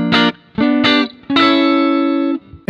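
Clean electric guitar through an Amplitube 5 amp with reverb: a few short plucked notes, then a longer chord that rings out and fades, close and clear.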